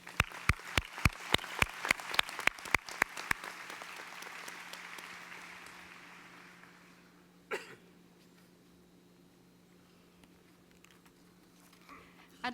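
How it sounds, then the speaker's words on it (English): Audience applause at a law school commencement ceremony: a burst of loud, sharp individual claps quickly merges into a dense crowd wash that fades away, followed by a few coughs and stray sounds in a quieter hall. "Please join me in a round of applause for our 2 faculty marshals."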